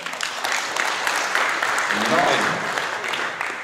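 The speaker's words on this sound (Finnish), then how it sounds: "Ja vielä kerran aplodit." Steady applause from an audience at a rally awards ceremony in Heinola fills the space, dense and continuous, with a brief spoken word at the start.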